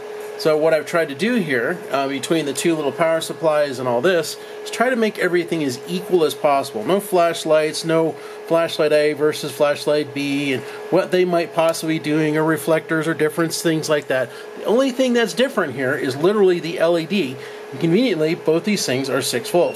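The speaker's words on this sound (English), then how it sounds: "So the noise you're hearing is the fans" Cooling fans on a heatsink and a small power supply run through an LED bench test, giving a steady, quiet hum beneath continuous close-up talking.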